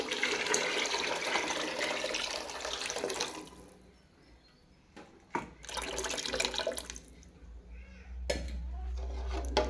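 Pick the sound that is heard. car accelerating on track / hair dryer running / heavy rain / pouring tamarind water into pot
pouring tamarind water into pot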